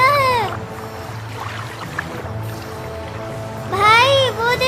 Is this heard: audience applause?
no